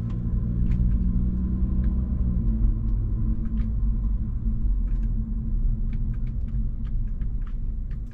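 A 2024 Acura Integra A-Spec drives along a narrow road, heard as a steady low interior rumble of engine and tires with faint clicks and rattles.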